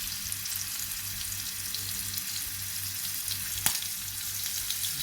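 Semolina-coated prawns frying in a pan, giving a steady, close sizzle throughout with one sharp tap of a utensil partway through.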